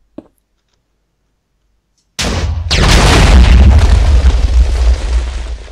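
After a faint click and about two seconds of silence, a video game bomb bursts in one sudden, very loud blast that rolls on as a dense, sustained roar.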